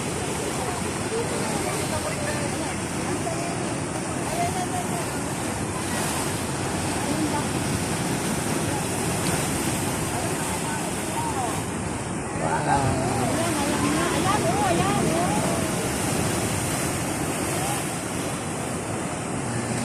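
Ocean waves wash and surge through a rock hole at the Death Pool in Pangasinan, a constant close roar of churning water with wind buffeting the microphone and a stronger swell near the middle.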